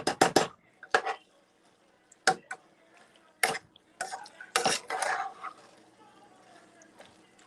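Shrimp being stirred in a pan as they warm for shrimp pasta: a utensil scrapes and clanks against the pan in irregular bursts, near and fairly loud, with quieter stretches between.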